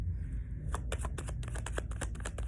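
Tarot cards being shuffled during a card reading, a close run of rapid riffling flicks and soft slaps over a low steady background hum, with no talk.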